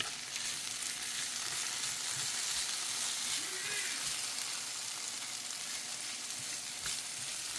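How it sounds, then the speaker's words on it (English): Diced potatoes frying in cooking oil in a pan, a dense continuous sizzle heard up close, steady in loudness throughout with no talking. "I'm just going to add all of these diced potatoes right into the pan"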